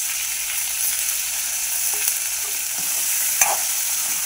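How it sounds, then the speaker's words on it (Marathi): Brinjal curry with turmeric, curry leaves and bay leaf cooks in a pan over low heat, giving a soft, even sizzle with occasional light spatula scrapes and one sharper clink near the end. "कमी गॅसवर हलवत राहायचं"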